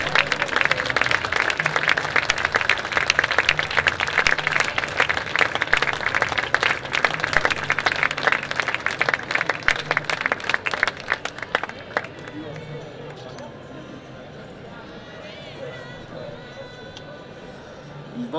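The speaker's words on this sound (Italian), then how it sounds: "Il vostro applauso penso che sia la testimonianza più grande" Audience applause after a talk at a dialogue event between Christians and non-believers: a long, dense burst of clapping from a crowd that fades partway through to quieter room sound.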